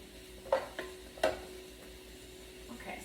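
Pasta sauce ingredients sauté in a pan on a home cooktop, with a soft, steady sizzle broken by a few clear knocks of stirring.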